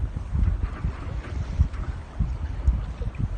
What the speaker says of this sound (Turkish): arkadan bir rüzgar geliyor